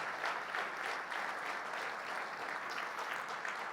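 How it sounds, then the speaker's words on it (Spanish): A church congregation applauds in praise during a service, steady dense clapping that fills the room evenly and continues without a break. "Fuerte ese aplauso de alabanza al Señor"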